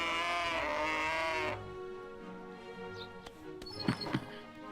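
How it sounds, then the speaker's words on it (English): A cow moos in a farm video game, the drawn-out harmonic call loud and steady for about a second and a half before cutting off, followed by quieter game sounds and a couple of soft clicks. "And another moo."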